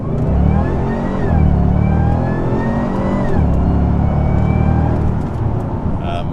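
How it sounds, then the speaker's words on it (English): An HSV LSA R8 Maloo ute with a supercharged LSA V8, cold air intake and Di Filippo (DPE) cat-back exhaust accelerates hard, roaring loudly with rising revs, audible supercharger whine and a couple of quick gear shifts between pulls. "And this is the note under a heavy acceleration."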